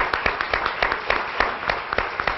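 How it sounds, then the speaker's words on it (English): A short burst of crowd applause at a Brockton school committee meeting, many hands clapping in a steady patter at moderate loudness, with no speech over it. "a nice round of applause"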